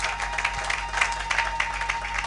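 A church congregation applauds at a service, giving a dense, continuous wash of clapping and crowd noise that holds steady at a fairly loud level, with some voices mixed in.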